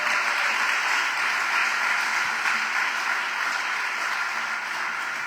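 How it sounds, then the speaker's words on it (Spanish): A church congregation applauds during a sermon, a steady wash of dense, loud clapping that holds evenly from start to finish with no voices on top. "Dándole un aplauso al Señor."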